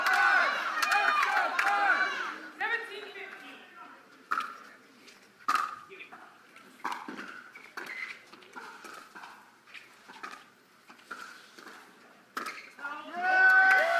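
Spectators at a professional pickleball match, MLP Atlanta 2024 with New Jersey 5s against New York Hustlers, cheer loudly at the start and again at the end, with voices and scattered sharp sounds in between.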